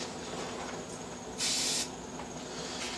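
A can of 3M 90 spray adhesive lets out one short hissing burst of about half a second, close and fairly loud over a quiet room hum.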